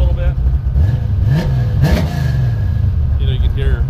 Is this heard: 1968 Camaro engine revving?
yes